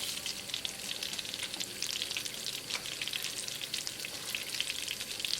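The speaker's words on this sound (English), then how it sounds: "Use the same karahi, add cumin seed." Cumin seeds sizzle in hot oil in a karahi, a steady, dense crackling hiss held close and even throughout, with no voices.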